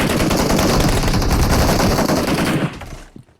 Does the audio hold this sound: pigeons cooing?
no